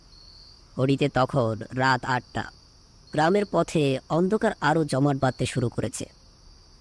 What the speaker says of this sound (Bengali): দুপাশের ঝোপঝাড়ে একটানা ঝিঝির ডাক ভেসে যাচ্ছে বহুদূর।